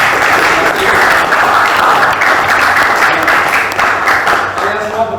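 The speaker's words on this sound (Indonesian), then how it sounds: "Kita beri tepuk tangan untuk diri kita." Students in a classroom give a loud, steady round of applause that fills the room for several seconds, with voices mixed in and fading toward the end.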